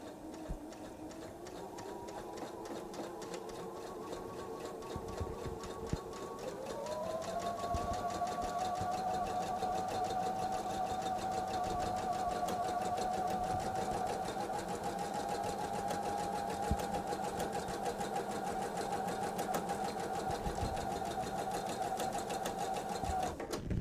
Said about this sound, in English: Now I have to keep it all straight and do a 1/4 of an inch seam.